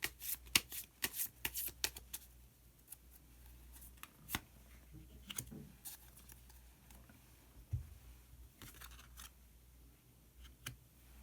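Tarot cards are shuffled and drawn by hand: quick bursts of crisp riffling and slapping cards, then scattered soft flicks and taps, close and quiet, with no speech.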